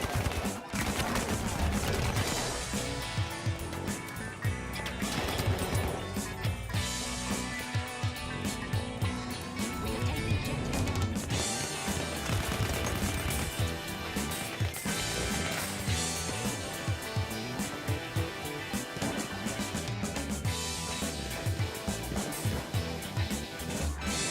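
SMG fire in Battlefield 1 gameplay rattles in rapid bursts amid dense, loud battle noise and explosions, continuous throughout.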